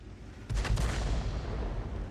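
Artillery gun fire in a tank video game, a single heavy boom starting suddenly partway through and rolling on over steady background rumble.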